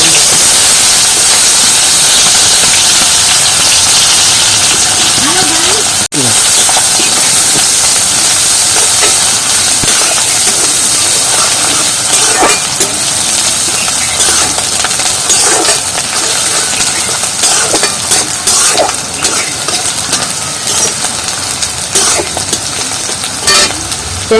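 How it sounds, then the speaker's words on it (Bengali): Chopped onions dropped into hot white oil in a pan for a Bengali fish curry, giving a loud, continuous hiss and sizzle with scattered crackles and pops. "তেল গরমের মধ্যে দিয়ে দেবো পেঁয়াজ,"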